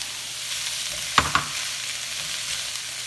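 Green beans, carrots, spicy peppers and celery stir-fry for a chicken stir fry, making a steady close sizzle broken by two sharp metallic spatula clinks against the pan.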